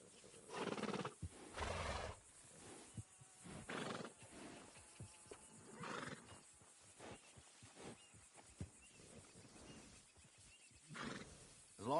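Horse sounds in the Red Dead Redemption video game: snorts, whinnies and hoof clops in short bursts separated by quieter gaps, close and fairly faint overall.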